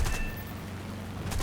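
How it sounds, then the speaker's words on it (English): Aircraft machine guns of a Boomerang Mk I in the War Thunder combat game fire in short bursts at the start and end, with a steady engine drone between them. "We only have machine guns right now."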